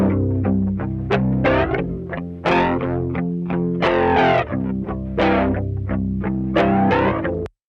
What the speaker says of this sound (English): I'm also doing some palm mutes that are just me kind of going through that crunchy signal again